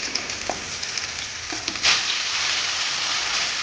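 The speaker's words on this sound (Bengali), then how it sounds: "তেলটা গরম হয়ে গেছে, এবার আমি এক এক করে মাছগুলোকে ছেড়ে দেবো।" Catla fish pieces frying in a generous amount of hot oil, a steady close sizzle with a sharper burst of crackling midway as the pieces go in, continuing evenly to the end.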